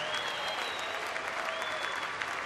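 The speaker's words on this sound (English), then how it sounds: "Let's have a warm round of applause for Lieutenant Commander Kerr" A crowd in a sports arena applauds in a steady, dense wash of clapping that holds loud and even throughout, with a faint high whistle-like tone running through it.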